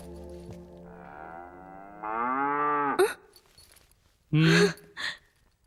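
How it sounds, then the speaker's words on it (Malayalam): A domestic cow kept by a household moos twice, first a long drawn-out low call, then a shorter loud burst after a pause, with faint talk between. "പശു ഞാൻ വളർത്തുന്ന."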